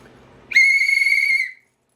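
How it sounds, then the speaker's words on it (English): A single shrill survival whistle blast, loud and steady for about a second, after a faint rustle. "whistle does work."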